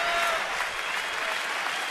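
A baseball crowd at a Cubs–Nationals game in Washington claps and cheers for a third out in the seventh inning, steady dense applause from a large stadium audience throughout.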